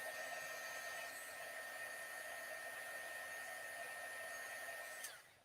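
A heat tool blows a steady, loud hiss of hot air over a freshly stamped card at a craft table, with a masculine travel-themed font, running continuously before cutting off abruptly near the end.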